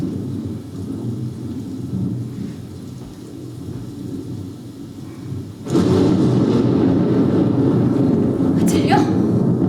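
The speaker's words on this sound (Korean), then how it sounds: "들려? 폭풍이 몰아치고 있어." A thunderstorm in a stage play: steady rain hiss swells suddenly into a loud, dense roar of downpour and rumbling thunder, with a sharp crackle near the end.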